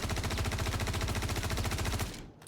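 Rapid automatic gunfire from a weapon in Star Citizen, a steady even stream of close, loud shots for about two seconds before stopping abruptly.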